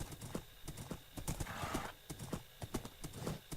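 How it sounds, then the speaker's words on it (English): Rhythmic clip-clop of a fast jumper horse galloping in the video game Minecraft, steady hoofbeats throughout with a whinny partway through, moderately loud and close. "It's a very fast horse too."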